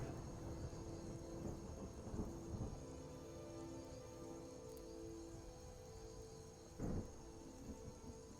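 Steady rain falls outdoors with low rumbles of thunder rolling through, a soft continuous patter with a brief louder crack or rumble near the end, no voices.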